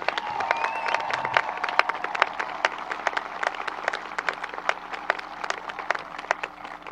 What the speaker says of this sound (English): Can we give a round of applause for all these individuals?